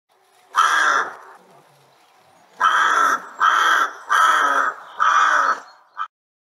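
A rook caws five times, loud and close, with harsh drawn-out calls: one early, then four in quick succession, followed by a brief clipped sound.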